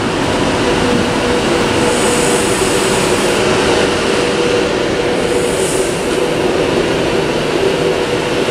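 Avanti West Coast Class 390 electric train at Carlisle on the West Coast Main Line, a steady loud rumble of wheels and motors with faint high whine, no talk.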